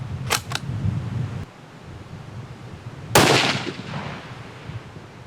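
A .338 Lapua Magnum rifle fires one loud, sharp shot at about three seconds, then a rolling echo fades out. Earlier there are two faint clicks over outdoor background noise.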